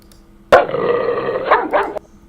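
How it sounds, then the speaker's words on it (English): A dog lets out a loud, drawn-out bark that breaks into a second short bark, close and sudden against a quiet room. "Sorry for the dog barking."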